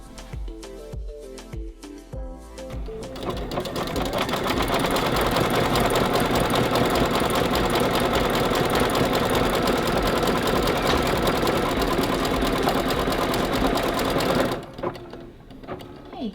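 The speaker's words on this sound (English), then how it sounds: "put this hoop back on the machine and sew the satin stitch" An embroidery machine sews a satin stitch around an appliqué: a few stitch clicks, then a loud, steady rapid mechanical whir that runs for about ten seconds before stopping abruptly, followed by quiet handling noises.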